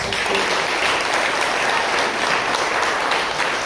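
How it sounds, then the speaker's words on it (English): Dense, even applause from the audience at a congressional candidate forum, a loud continuous wash of clapping with no voices over it. "Can we just get everyone to give him a round of applause?"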